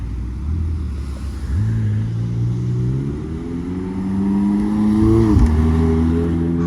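McLaren 720S supercar engine at a Monterey supercar rally, droning steadily then rising in pitch as it revs and accelerates, a loud, close exhaust note with no talking.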